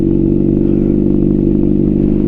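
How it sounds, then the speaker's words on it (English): Honda CBR600RR motorcycle engine pulling in second gear under light throttle, a steady, loud, close drone with even firing pulses and no talk over it. "Now we're on second, letting go a little bit and add a little bit of throttle."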